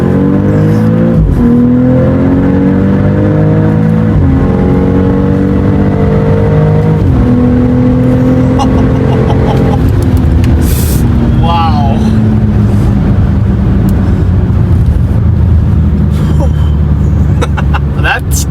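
A BMW X3 M40i SUV launching hard, its engine loud and close, pitch climbing and dropping through several quick gear shifts before settling into a fast road roar.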